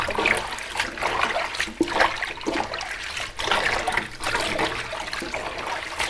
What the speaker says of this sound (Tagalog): Hugasan ko muna ang spinachi.